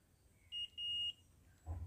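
A multimeter buzzer in continuity mode sounds twice on a shorted capacitor of a 32-inch Sharp LED TV panel, a brief beep then a longer tone, clear and close over a quiet background.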